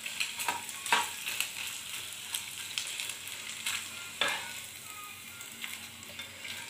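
Boiled noodles fry in hot oil with a steady close sizzle, broken by repeated sharp scraping strokes of a spatula stirring them in the pan.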